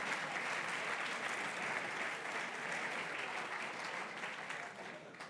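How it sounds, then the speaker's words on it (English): An audience at the St. Gallen Symposium applauds in a steady, dense wash of many hands that holds evenly throughout and fades slightly at the end; it sounds moderately distant and soft. "I don't know why you're all clapping"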